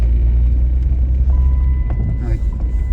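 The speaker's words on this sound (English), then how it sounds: "Can you guys hear the car? That's the car." Steady low engine rumble and road drone from inside a moving car, loud and continuous, with faint rattles on top and no clear voices.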